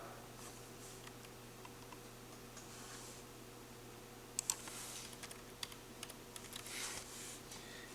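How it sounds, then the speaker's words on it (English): Faint, sparse keystrokes on a computer keyboard as a single word is typed, a short irregular cluster of light clicks over a quiet room hum. "in your filter box, type the word blackout."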